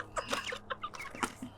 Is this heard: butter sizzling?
no